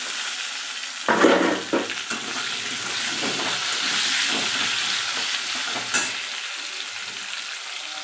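Potatoes fry steadily in a pan, a continuous close hiss with crackling, broken by a few louder scraping stirs at the start and one sharp knock later.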